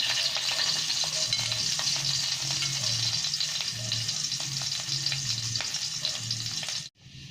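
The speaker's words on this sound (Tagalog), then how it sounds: "silalagay ko yung bawang" Steady close sizzling of garlic frying in a pan with occasional stirring scrapes, starting a dish of sautéed bitter melon with salted egg, continuous and fairly loud until it cuts off abruptly near the end.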